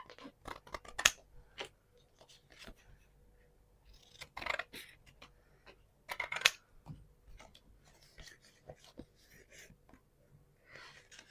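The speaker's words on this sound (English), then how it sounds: "So now I need to get some of these and cut these." Scissors snip paper pieces for an antique Victorian photo album, with close, crisp cuts in irregular bursts and quiet gaps between them.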